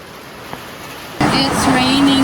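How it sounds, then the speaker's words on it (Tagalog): Rain starts abruptly partway through as a loud, dense hiss after a quieter stretch, with a voice speaking over the downpour. "It's raining, you guys."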